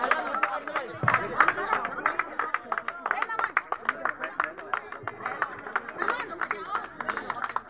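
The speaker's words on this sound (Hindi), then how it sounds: "तालियां बजती रहनी चाहिए विजेता टीम के लिए" Crowd claps for the winning team at a ground prize ceremony after a sports tournament, with uneven clapping and sharp hand claps mixed with chatter and voices nearby.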